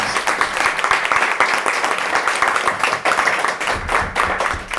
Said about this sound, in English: Everybody, can we make a round of applause